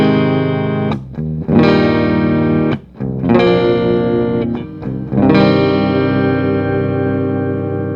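Electric guitar through a clean amp channel with no effects: loud strummed chords ring out and sustain for a couple of seconds each, separated by brief gaps, with no other sound around them.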